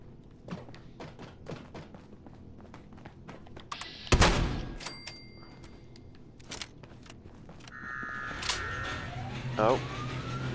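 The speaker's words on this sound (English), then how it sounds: "that's the sound of more robots being released" A loud alarm sounds as more robots are released in the video game Fallout 76, rising over a busy game soundscape with heavy thuds, clanks and bursts of gunfire.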